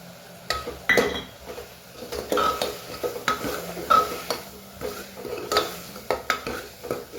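Masala cooking on a gas stove at full flame, stirred with a spoon that scrapes and clinks against the pot in an irregular rhythm over a soft sizzle, close by and without speech.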